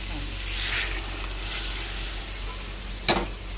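Boiled mung dal is poured into a pan of sizzling spice paste. A steady frying sizzle continues throughout, with a brief sharp clatter near the end.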